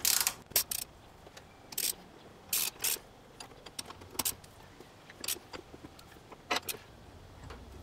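A 3/4 inch socket and wrench turning a bolt while removing a drill chuck arbor, with irregular metallic clicks, ratcheting and clanks of tools against metal, close and without talk.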